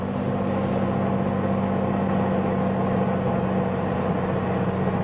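An aircraft engine drones loudly and steadily up close, an even rumbling hum that holds throughout with no voices.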